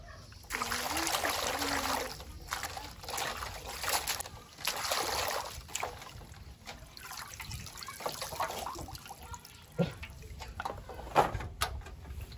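Lotus roots rinsed in water, irregular bursts of splashing and sloshing with short pauses between, close and moderately loud, a few clunks against the container.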